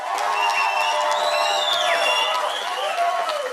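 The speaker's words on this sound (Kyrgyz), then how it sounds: "Туура кол чабуулар анда." A studio audience at a Kyrgyz-studies quiz breaks into applause mixed with cheering and high whoops after a correct answer, a loud, dense, continuous crowd sound lasting the whole moment.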